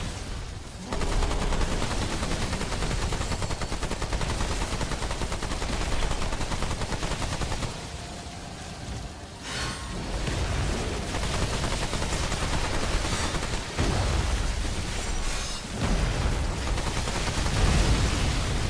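A turret in Remnant 2 firing at orbs, a dense, continuous hail of rapid gunfire and impacts that runs loud and steady throughout, with brief lulls, no talk.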